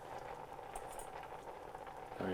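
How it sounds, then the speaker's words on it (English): Water boiling in a pot on a stovetop after tender dough rolls have cooked in it, a steady bubbling hiss that stays close and even throughout, with a brief clatter near the end. "And you can leave it on the heat because I want that water to be boiling."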